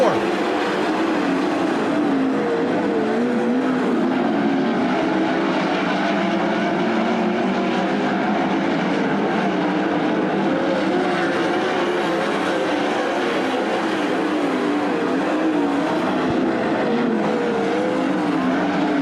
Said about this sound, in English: Good race for the 4th spot, Bryce Lucius and Travis Philo.